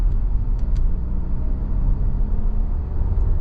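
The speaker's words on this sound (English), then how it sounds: "if I try and just give it a little bit of gas here," A 2024 Mazda 3 base model with a naturally aspirated engine gives a steady low rumble under light throttle, heard from inside the cabin, quiet and smooth with no clear rise.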